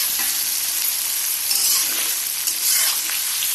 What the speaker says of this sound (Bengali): পেঁয়াজটা হালকা ভেজে তারপরে চিকেনটা দিব